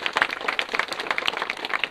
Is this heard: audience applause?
yes